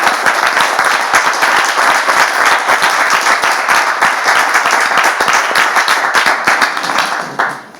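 A church congregation applauds loudly and steadily for several seconds, dense clapping that tapers off at the end.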